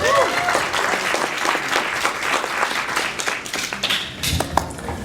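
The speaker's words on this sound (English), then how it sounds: "please give everyone a round of applause." An audience at an anime festival in Orlando breaks into steady applause, a dense wash of clapping from many hands that carries on for several seconds, with a few scattered whoops and voices mixed in.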